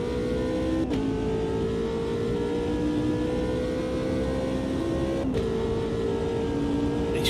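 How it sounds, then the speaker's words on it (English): Racing car with a V6 engine in a sim racing game revs loudly and steadily, engine pitch climbing with two brief gear-change dips, no talk over it. "This Rocco, I think it's got a V6 in it."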